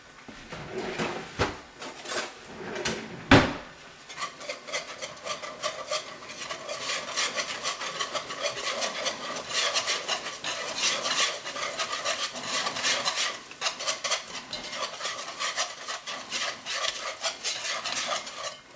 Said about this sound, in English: I'm going to put just enough flour it takes to soak up that liquid and make me a roux